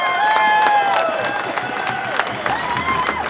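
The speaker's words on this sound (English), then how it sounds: "Big round of applause to the Uber driver" Crowd at an outdoor rally against an emergency services levy bill clapping and cheering for an Uber driver, a brief wash of applause with scattered whistles and voices mixed in.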